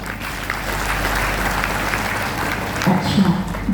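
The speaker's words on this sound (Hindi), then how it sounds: "ताली बजाइए फिर।" Audience applause at a Brahma Kumaris yoga gathering, a steady, dense clapping of many hands that holds across the whole stretch and swells slightly near the end.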